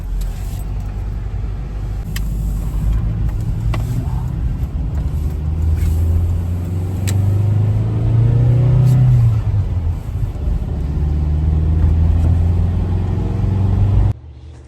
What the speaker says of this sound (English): We're going to take the Nissan over to Matt's.